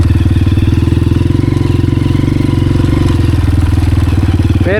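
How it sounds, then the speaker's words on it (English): A Honda CRF 230F four-stroke dirt bike engine chugs at low revs with a loud, rhythmic, even thump, close and steady throughout. "Obviously I have a 4-stroke, this is a 4-stroke, but this bike just chugs"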